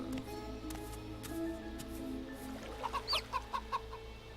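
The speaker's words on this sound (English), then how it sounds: "I got a pet chicken who's following me." Short clucks from a pet chicken in Divinity Original Sin 2 sound in a quick run of soft bursts near the end, over a steady low game hum and ambient tones.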